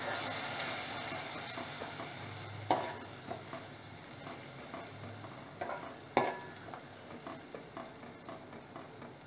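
Ground peanut paste for sabudana vada is stirred in a bowl, giving faint, soft, repeated scraping and squishing sounds in a steady rhythm, with a couple of sharper knocks.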